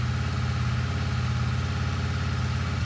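A Yamaha Star 650 motorcycle engine idles on full choke at just over 2,000 RPM, with a steady, even low thrum, loud and close throughout.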